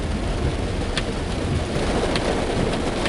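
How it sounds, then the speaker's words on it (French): Heavy rain pours down in Cuba as a steady, dense, loud hiss of water with no break, with no one talking. "Il y a légèrement de pluie"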